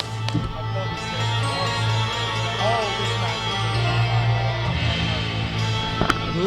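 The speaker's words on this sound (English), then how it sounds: "That is the sound of the theme song for Prince Ahmed" A wrestler's entrance theme with a steady low bass line plays through a noisy wrestling arena, with crowd murmur and occasional thuds and shouts over it.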